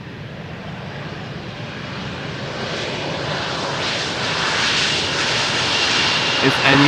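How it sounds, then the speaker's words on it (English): A KLM airliner lands gently on runway 18R at Amsterdam Schiphol, its engine roar building steadily from a broad rush to a louder, closer sustained drone that lasts throughout. "And a nice gentle landing."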